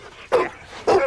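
Two sharp barks from a dog at home out in the woods or fields, spaced about half a second apart, fairly close and loud against quiet background.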